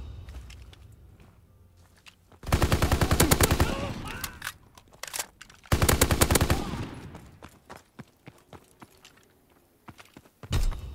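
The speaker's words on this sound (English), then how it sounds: "Fighter pilot in your area. Call for a strafing run." Strafing-run machine gun fire in the Call of Duty WWII video game on the Gibraltar map, two long, loud, rapid bursts of gunfire separated by a brief lull, with a short final burst at the end.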